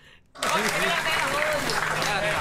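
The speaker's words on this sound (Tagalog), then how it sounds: "Lahat ng nagmamahal sa flip na palakpakan." At a FlipTop rap battle, audience applause breaks out suddenly after a quiet moment and holds as a steady dense clatter, with a loud voice talking over it.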